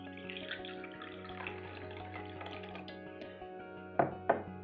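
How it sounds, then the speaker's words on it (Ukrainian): Water poured from a bottle through a plastic funnel into a small jar, a quiet trickle over a steady tonal hum, with two sharper splashing bursts near the end. "Потім налью води."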